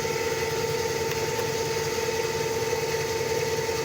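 A separately excited DC motor runs under speed control, giving a steady, even hum and whine with a faint ratcheting mechanical rattle and no change in level. No one talks.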